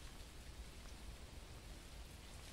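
Rain falls in the ghost-hunting video game Phasmophobia as a faint, constant hiss of fine droplets, steady throughout with no distinct drops or thunder standing out.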